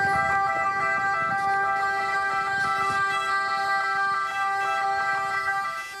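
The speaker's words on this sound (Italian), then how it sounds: "Le sirene spiegate hanno rotto il silenzio davanti alla chiesa parrocchiale" Ambulance sirens wail outside the parish church of Dosson di Casier during a funeral, a loud, steady, sustained siren tone holding throughout with faint background rumble and no talk.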